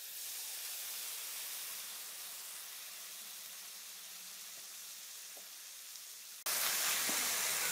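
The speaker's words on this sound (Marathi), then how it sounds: "टोमॅटो चांगला मऊ होईपर्यंत परतवायचा आहे, तेल सुटेपर्यंत." Chopped red tomato sautéing in hot oil with garam masala, coriander powder and turmeric for a dry drumstick bhaji, a steady close sizzle that runs throughout and swells louder near the end.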